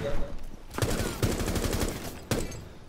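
Automatic gunfire in Rainbow Six Siege comes in loud, rapid bursts, with sustained rattling volleys and short gaps between them, close and dominant with no talk over it.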